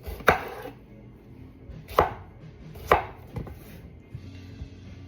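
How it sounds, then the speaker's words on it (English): A knife chops and slices through fresh tomatoes on a cutting board, with three sharp, distinct cuts spaced about a second apart and a few softer taps at the end, close and clear with no talking. "we're just gonna go ahead and start getting these tomatoes cut up and sliced up"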